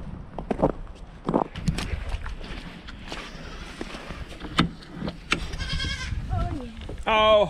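Goats on a homestead bleat in short, wavering cries toward the end, close by, mixed with footsteps, scattered knocks and someone talking.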